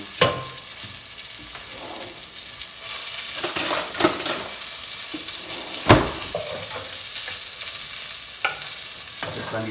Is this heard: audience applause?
no